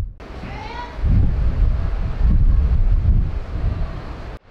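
Wind and sea noise on the deck of a cruise ship out at sea, a steady rushing roar with gusts buffeting the microphone, continuous throughout.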